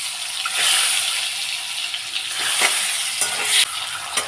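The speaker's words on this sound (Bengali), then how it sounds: "এখন আমি ডিমগুলো ছেড়ে দিচ্ছি।" Eggs frying in hot oil seasoned with turmeric and salt, a loud, close, continuous sizzle that swells and flares with occasional sharp spits and crackles.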